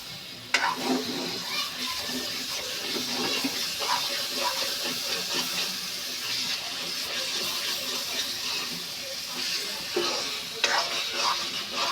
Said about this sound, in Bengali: এখন এটাকে তলা থেকে নেড়ে দেবে